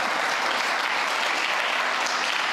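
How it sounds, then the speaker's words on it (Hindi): A church congregation claps loudly together in a steady, dense roar of applause that holds for the whole stretch, close and unbroken. "ताली मारो जोर से"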